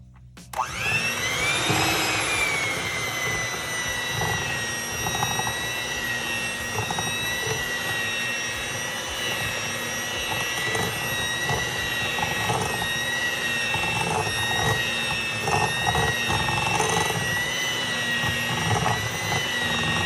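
Electric mixer running steadily on oatmeal cookie dough, a loud continuous whirring motor drone with high whine that spins up at the start and holds for the full stretch.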